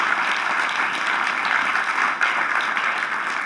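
Sustained audience applause at a Bratislava mayor's award ceremony, a dense, steady wash of many hands clapping with no talk over it.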